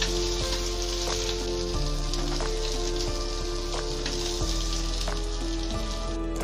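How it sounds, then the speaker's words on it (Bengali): Beans fry lightly in hot oil with a steady, dense sizzle and crackle, close and continuous, with occasional faint clinks of a utensil under the spitting. "শিমগুলো আমি ভেজে ফেললাম হালকাভাবে"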